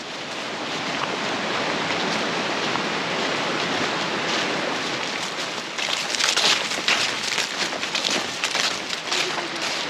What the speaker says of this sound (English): Roar of the creek down to our left, just about perfect